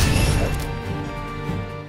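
A Golem's heavy smash attack in Child of Light, a single loud crashing impact that fades into a ringing tail.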